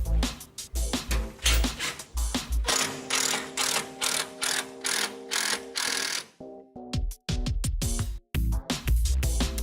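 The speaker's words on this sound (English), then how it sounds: "then install screws." Screws driven into the rails of a roller shutter with a power driver, short whirring bursts with clicking ratchet-like chatter, a long continuous run in the middle, then quick repeated stops and starts, close and fairly loud.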